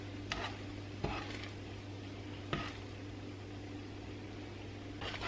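Food browning in a pan on the stove, a steady low sizzle with a few brief scraping stirs, close and fairly quiet with no talk.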